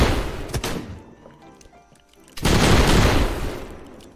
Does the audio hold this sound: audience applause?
no